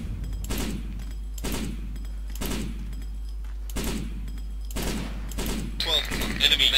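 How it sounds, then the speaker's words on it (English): Repeated bursts of enemy gunfire in a video game, roughly one volley every second, loud and sharp over a steady low hum, with a brighter metallic clatter near the end. "Enemy fire!"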